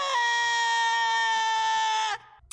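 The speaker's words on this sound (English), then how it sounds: "his panic and paranoia starts kicking in and just runs off to the other room screaming." Zim, the panicked alien cartoon character from Invader Zim, lets out a single loud, sustained, high-pitched shriek lasting about two seconds, then cuts off abruptly, leaving only faint background noise.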